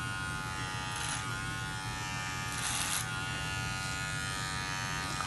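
Electric hair clippers cutting hair with the guard opened all the way, a steady close buzz running throughout with a few brief brighter swells as the blades pass through hair.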